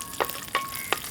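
Small cashew pieces frying in hot ghee in a pan, a soft continuous sizzle broken by three short scraping stirs, close and fairly quiet with no talking.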